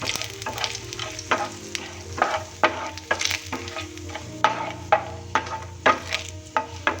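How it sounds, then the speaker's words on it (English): Whole spices (cinnamon, cloves and bay leaves) with masala frying in oil for masala poha: a steady close sizzle punctuated by repeated sharp scraping strokes of a spoon against the pan, alone without voices. "Now let's add the masala, the cinnamon and the cloves and the bay leaves. Now fry them well."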